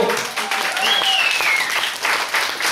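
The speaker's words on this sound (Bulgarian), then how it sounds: "аплодисменти за него" A studio audience at a televised talent show breaks into dense, sustained applause for a contestant. A brief whistle-like tone rises above the steady clapping.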